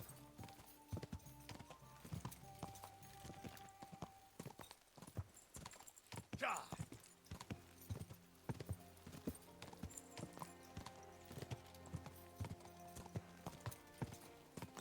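Horse hooves clip-clopping steadily in the medieval video game Kingdom Come Deliverance II, a clear rhythmic gait with a brief snort or whinny midway and faint game music underneath.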